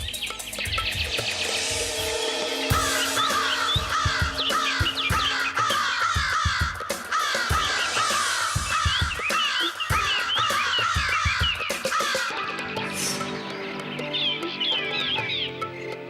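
Several crows caw over and over in harsh, overlapping calls, loud and busy throughout, with a few clucking sounds mixed in and no voices.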